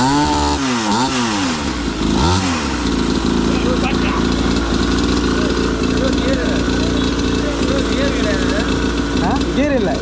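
A petrol-engined mini superbike styled after the Ninja ZX6R starts up and settles into a steady, loud buzzing idle with a few revs, a voice speaking over it near the start.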